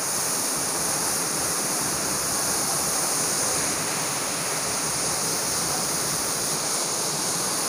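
Waterfall in Hong Kong Park, a dense continuous roar of falling water, close and loud, steady throughout with no voices.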